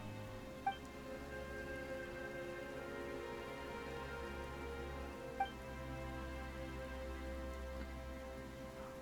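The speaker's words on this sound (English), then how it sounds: "Why is it raining all of a sudden?" Steady rainfall in Genshin Impact patters down continuously, a soft even hiss with a low rumble beneath it, and a couple of brief drips standing out.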